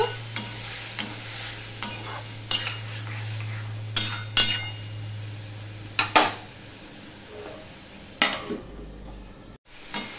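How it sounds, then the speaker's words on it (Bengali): Spice masala with a little water is stirred and fried in a pan for a papaya and chickpea dal: a steady sizzle under repeated scraping strokes and occasional metal clinks of the spoon against the pot. "একটুখানি জল দিয়ে দিলাম, দিয়ে আমি মশলাটা কষিয়ে নেব"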